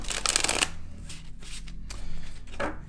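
Tarot cards being shuffled by hand during a monthly Capricorn reading: a dense, papery riffling burst at the start, then softer continuous shuffling with a final flurry near the end, close and with no talk.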